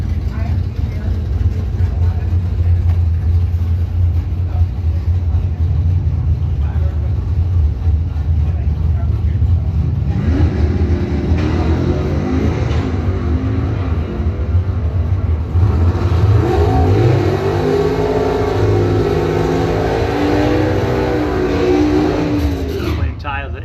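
An 86 Monte Carlo and a 67 Firebird at a drag strip: a loud, steady low engine roar, then rising revving sweeps as the cars accelerate hard, under an announcer's voice.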